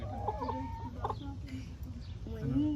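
Chickens cluck repeatedly nearby, several birds calling over one another with a low background rumble and some murmur of voices.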